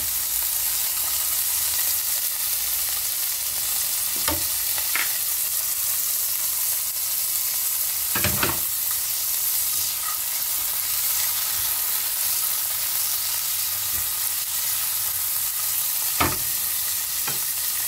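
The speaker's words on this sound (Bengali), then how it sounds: "আমি এখানে একটু কাজু আর কিশমিশ ভিজিয়ে রেখেছিলাম, এটা এখন হালকা করে ভেজে নেব" Cashews and raisins fry gently in hot ghee, giving a steady soft sizzle throughout with a few sharper scrapes and clinks of a spoon against the pan; no one speaks.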